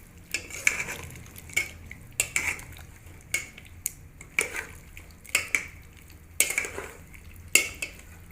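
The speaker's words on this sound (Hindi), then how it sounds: "इन्हूं असीं अच्छी तरह मिक्स करेसूं इहदे विच मिसाले दे नाल।" Potatoes and pumpkin with spices being stirred in a pot, a utensil scraping and clinking against the metal in a steady series of sharp strokes, close up over a faint background hum.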